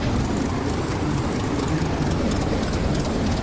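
A train rolling past in a Roblox game, a steady loud rumbling and rattling roar that fills the whole stretch at constant strength, with no talk over it.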